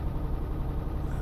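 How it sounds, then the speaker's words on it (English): Truck engine in Euro Truck Simulator 2, a steady low rumbling drone with a faint high whine above it, continuous and fairly quiet, with no talking. "You can hear the sound of the engine as well."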